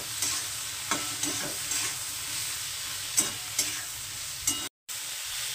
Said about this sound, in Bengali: তো এইভাবে আমি উচ্ছেটাকে অর্ধেকটা ভাজবো